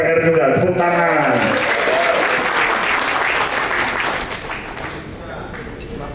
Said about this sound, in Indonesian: Ketua DPC Pesawaran Ahmad Diko Julan, Ketua DPR juga, tepuk tangan